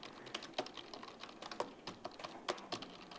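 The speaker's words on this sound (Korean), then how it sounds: "엔터키 치면서 줄 떨어뜨려 가면서 마구 치세요" Someone types on a computer keyboard, hammering keys and repeatedly striking the Enter key, with irregular, close clicks and sharper accented taps in a steady flurry for about three seconds. No one speaks.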